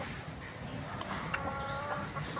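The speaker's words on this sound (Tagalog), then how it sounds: "Manok na pula." Red fighting rooster clucking outdoors in a few short, close calls over a steady bed of background noise.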